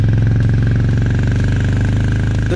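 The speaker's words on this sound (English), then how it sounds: "The trademark thump from the exhaust is still there" A Royal Enfield Meteor 350 cruiser motorcycle's exhaust thumps steadily at idle, a deep, loud, even pulsing with no voices over it.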